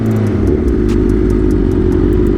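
A Suzuki GSX-R 1000 racing motorcycle roars loudly and steadily at high engine speed, a dense continuous exhaust drone close by with no pauses.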